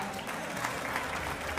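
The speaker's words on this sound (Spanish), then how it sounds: "fuerte el aplauso para" Steady applause from a crowd at a festival held at a Hungarian community society in Villa Ángela, Chaco, continuous and fairly close for the whole stretch without pause.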